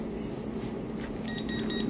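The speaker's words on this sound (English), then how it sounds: "When the time is over, you can hear the beep that the sublimation is ready now." A sublimation vacuum heat press machine (ST 1520 3D mini multifunction) sounds its finished signal: a short series of high, evenly spaced electronic beeps over a steady mechanical hum.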